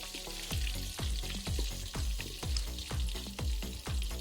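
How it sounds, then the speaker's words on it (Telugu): Fish pieces fry in hot oil with a steady crackling sizzle, punctuated by regular, evenly spaced thumps and scrapes of stirring about twice a second, close and loud with no talking. "చేప వేయించుకున్న తర్వాత మరీ డార్క్ రోస్ట్ కావాలంటే ఇంకొద్దిసేపు వేయించుకోవచ్చు."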